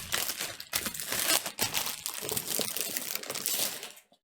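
Plastic wrap crinkles and tears as it is cut away from a Corsair iCUE H100i Elite Capellix liquid CPU cooler box, with close, busy rustling in irregular bursts and no talking.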